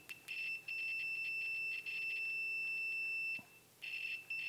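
A multimeter's high continuity-test beep sounds continuously for a few seconds, breaks off, then returns in a shorter burst, thin and slightly scratchy.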